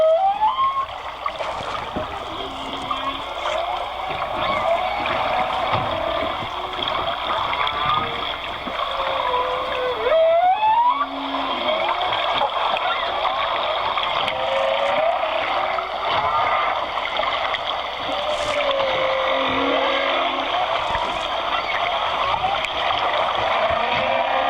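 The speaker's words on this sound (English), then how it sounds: "everything you're hearing are the whales" Humpback whale song: long sliding moans and rising whoops echo through a wash of underwater hiss off Maui, repeated slowly with some distant, faint calls between them.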